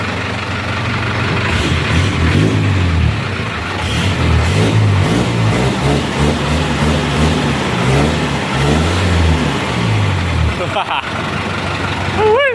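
A big diesel engine of a used six-wheel truck revs loudly in repeated surges, rising and falling over a steady rumble, close by and continuous.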